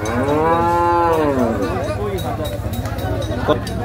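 A cow lets out a long, loud moo close by at the Hozrotpur cattle market, with a crowd murmuring and talking in the background.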